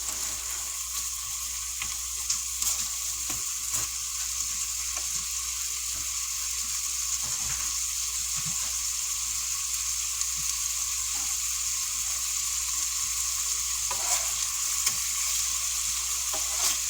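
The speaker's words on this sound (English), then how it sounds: "There we go. Starting to fry." Hamburger meat fries in a pan with a steady, loud sizzle and crackle that runs without pause, dotted with small pops and the occasional scrape of stirring.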